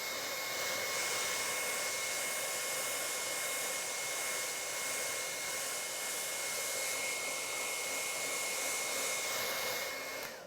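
A cheap handheld blower runs steadily to dry a painting, a continuous loud whirring hiss with a thin whine that holds level and then cuts off at the end, with no talking.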